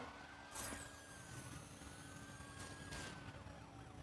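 Police sirens wail in the Need for Speed No Limits racing game, rising and falling sweeps layered with a revving car engine, fairly quiet in the mix and with no talk.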